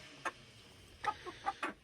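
Chickens cluck in a backyard coop where hens have just started laying, a few short separate calls spaced over a couple of seconds against quiet background.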